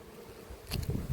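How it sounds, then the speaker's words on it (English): Honey bees buzzing around an apiary hive while a colony is being split into nucs, a low droning hum that swells louder in the second half of the short clip, fairly close. "there are quite a few bees still in here"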